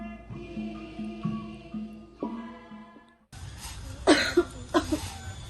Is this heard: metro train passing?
no